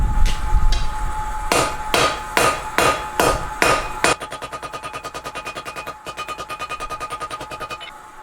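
A blacksmith hammers hot steel with a cross peen hammer while forging a simple spatula: a run of loud, evenly spaced ringing blows, then a faster, softer train of rapid strikes.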